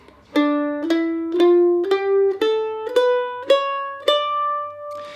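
A plucked mandolin climbs an ascending melodic minor scale one note at a time, ten crisp, evenly spaced notes, each ringing briefly, the last one sustaining and fading.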